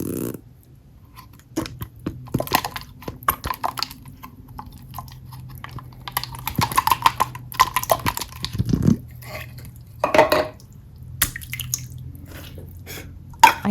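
Water slime from Temu is squished and stirred by hand in an open container, giving close, wet squelches, pops and clicky crackles in irregular bursts with quiet pauses between.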